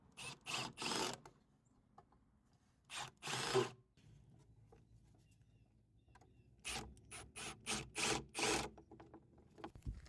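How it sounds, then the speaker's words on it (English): A driver sinks Simpson Strong-Tie structural screws into a joist hanger on a small deck, in several short whirring bursts separated by quiet gaps, with a quick run of bursts toward the end. "This is a Simpson strong tie bracket, and I'm using their structural screws."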